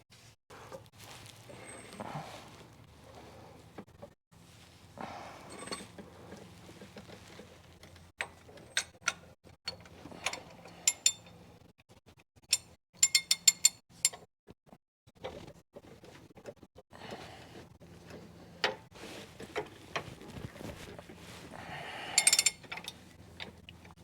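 Sharp irregular metallic clanks and clicks as a homemade welded puller works the harmonic balancer off the crankshaft of a 1997 Dodge Ram 5.9 V8, with bursts of ratcheting and scraping over a low steady hum, close by and without talk.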